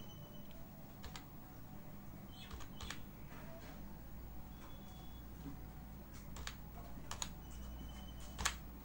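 Quiet, scattered keystrokes tap on a computer keyboard in a hushed room, coming in brief irregular bursts over a low background hum.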